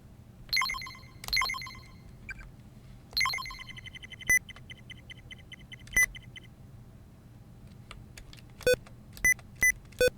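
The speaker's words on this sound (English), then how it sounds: "Why is it making that beeping noise every time I press the shift key?" Windows sticky keys alert beeps sound each time the shift key is pressed: a few clustered chirps early on, then short, isolated electronic beeps spaced irregularly over a quiet background, with no one talking.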